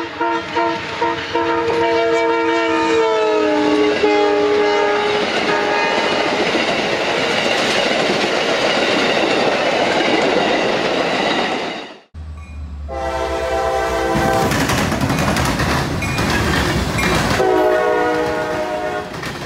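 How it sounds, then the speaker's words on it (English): Freight train hauling ethanol tank cars through Central Florida, passing loud and close with a long sustained horn blast over rumbling wheels, then a cut to further horn blasts and clattering cars. "catching a very special ethanol train"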